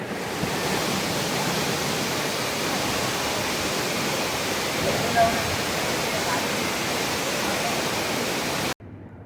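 Shiravane waterfall in Jui Nagar, Navi Mumbai, pours in a loud, steady, close rush of flowing water that barely changes throughout, then cuts off abruptly just before the end.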